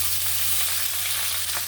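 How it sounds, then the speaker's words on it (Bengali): Potato and cauliflower frying in hot oil for a katla fish curry, a steady close crackling sizzle with a faint low hum beneath and one brief stir near the end, no voices. "আলুটা দিয়ে দিলাম ওই তেলের মধ্যে। ফুলকপিটাও দিয়ে দিলাম। ভালো করে ভেজে নেবো"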